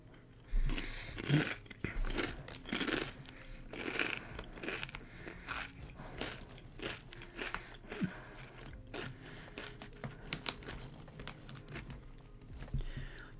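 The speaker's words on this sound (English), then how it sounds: "You guys can hear me crunch." Crunchy food is bitten and chewed right at the microphone in a loose, irregular series of crisp crunches over about thirteen seconds, with faint background noise.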